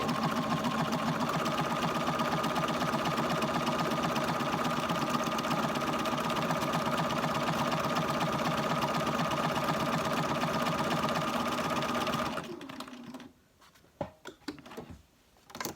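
A Bernina sewing machine with buttonhole foot 3a stitches a buttonhole in a steady, rapid mechanical whir for about twelve seconds, then stops, leaving a few light handling clicks.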